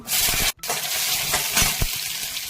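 Garlic cloves dropped into hot oil with black cumin seeds, giving a steady close frying hiss with a brief dropout and small stirring clatters, no talk.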